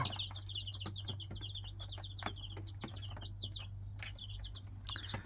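Hens and chicks in a backyard flock of eleven cluck and peep while feeding on fruit peels and banana, quiet continuous chatter with a steady low hum underneath and no voices.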